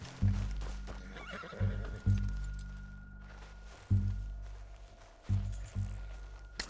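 A horse neighs in Red Dead Redemption 2 over heavy, repeated thumping hoofbeats that land every second or so.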